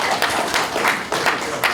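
A crowd claps and applauds at a Democratic Party candidates' speech event in Yongin. The steady clapping swells in several waves across a short stretch.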